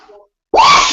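One sharp, loud sneeze bursts out suddenly after a brief quiet moment, up close during an online class session.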